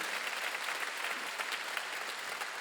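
A congregation at a Wednesday church service applauds in a steady, even wash of clapping from a crowd, moderately distant and without voices.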